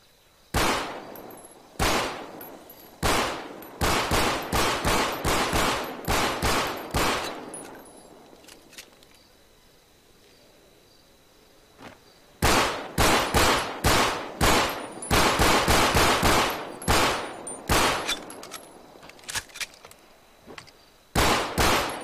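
Beretta pistol firing in FiveM, the GTA V multiplayer mod, in bursts of sharp, loud, closely spaced shots separated by a quiet pause, crisp and close with no talking.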